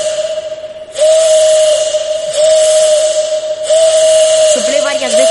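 A conch shell whistle is blown loud, steady and high in several long blasts separated by short breaks, with a wavering tone at the end.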